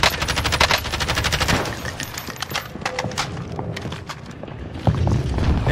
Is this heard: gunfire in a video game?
yes